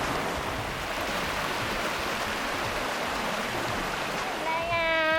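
Roar of a waterfall in a full mountain stream at Wang Chung Stream, a steady loud broadband rush filling the scene, with a brief whistle-like tone near the end.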